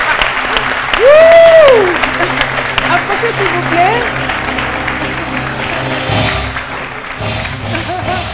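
Studio audience applauding firefighters, sustained loud clapping and crowd noise with people talking over it and a rising whistle-like tone near the start.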